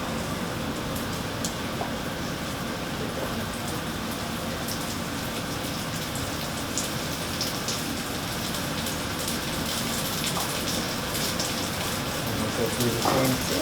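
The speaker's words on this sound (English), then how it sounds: "Chuck it into the frying pan." Steady hissing and crackling of floured chicken frying in a pan continues throughout, even and close, with nothing else standing out.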